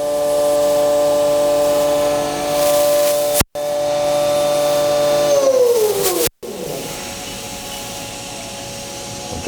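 Spindle of a Haas VF2SS vertical machining center running up toward its 12,000 RPM maximum, a loud steady high-pitched whine that shifts pitch between speed steps, broken by two brief cutouts, then winding down.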